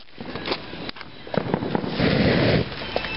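Outdoor fireworks go off in a run of sharp, close cracks and pops. A denser crackling burst follows near the end.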